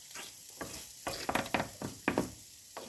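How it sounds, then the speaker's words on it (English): Food frying in butter in a pan, cooked the French way: a soft, steady sizzle with a few sharper pops and light clicks from stirring. "since I'm cooking this the French way, meaning cooking with butter"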